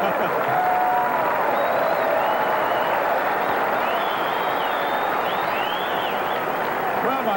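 Tennis crowd applauding in a steady, dense wash of clapping at a pro match, continuous and fairly loud from start to finish, with a few faint whistles riding over the top.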